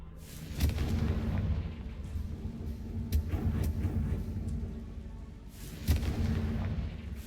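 Confringo blasting spell explosions in a Hogwarts video game: loud booming blasts with a heavy low rumble, a sharp burst near the start, several more mid-clip and another strong one near the end, no talk.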